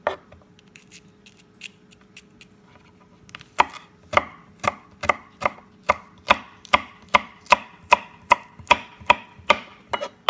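A knife chops okra into small pieces on a board, a few light taps giving way to a steady, regular run of sharp, close chops about twice per second.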